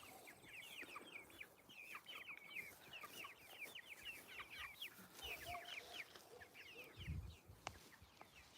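A flock of five-week-old Cornish cross chickens clucks and chirps steadily outdoors, a dense overlapping chorus of short calls with a few louder close thumps near the end.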